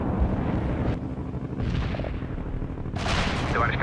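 Artillery strike in the Cold War strategy game World in Conflict, heard as dense, continuous rumbling booms and shell blasts, with a bright burst of impacts toward the end.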